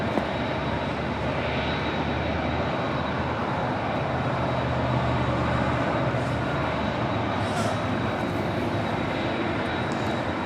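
An Airbus A340-300 charter jet at LAX gives a steady, moderately loud engine roar from a distance, a broad continuous rumble with a thin high whine running over it and no talking.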